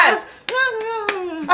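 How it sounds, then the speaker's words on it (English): Hands clapping in a few sharp, close claps spaced through a short moment, heard over a voice that talks on in a sustained, sing-song tone. "I am clapping"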